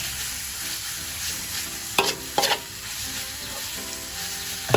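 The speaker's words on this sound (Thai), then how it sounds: "ผัดหมูไปครับผม" Minced pork stir-fries in a hot pan for a southern Thai dish with stink beans and shrimp paste, a constant close sizzle broken by two quick scraping stirs of the spatula.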